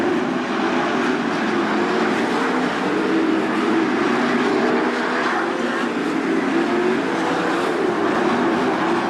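Race cars roar around the dirt oval at Attica Raceway Park in a steady, blended rumble as lapped cars run side by side, the sound heard from a middle distance without letup.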